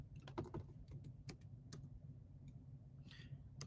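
Quick, light keystrokes tap on a computer keyboard in short irregular bursts. The clicks are faint and close, over a low steady hum.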